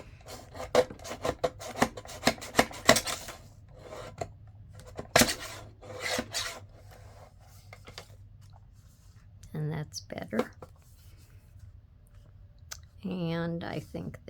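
Paper booklet pages of a 12 x 12 mini album trimmed on a guillotine, giving rough rasping cuts and clicks in clusters, close, with talking over parts of it.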